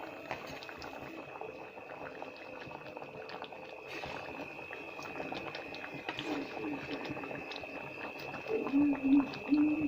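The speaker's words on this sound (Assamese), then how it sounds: "চাইছোঁ চব্জিখিনি উতলি আছে।" Vegetables with taro stems and sour fruit boiling in a covered pot on the stove, giving a steady close bubbling and simmering that swells near the end, with a faint voice in the background.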